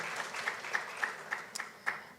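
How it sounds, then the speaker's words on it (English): A small audience at a conference opening and keynote on digital rights gives applause, a thin, fairly distant patter with a few distinct rhythmic claps standing out near the microphone. "Please, can we give them a heartfelt round of applause?"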